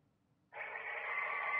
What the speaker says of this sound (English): That was a phone ringing underwater.